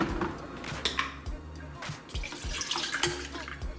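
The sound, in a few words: pouring almond milk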